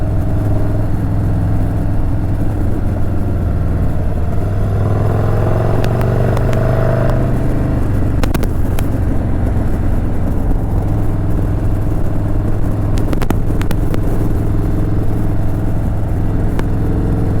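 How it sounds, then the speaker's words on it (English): Harley-Davidson Softail Street Bob fitted with a rowdy TBR exhaust pipe, a steady deep rumble running at close range with occasional rises in revs and no talk. "the TBR pipe's pretty rowdy on this guy, which matches the rowdiness of the bike"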